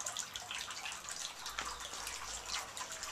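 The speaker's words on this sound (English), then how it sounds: "what you hear in the background is my water fountain" Water trickles and splashes continuously from a small garden fountain, a soft bubbling patter with scattered drips, fairly faint and alone.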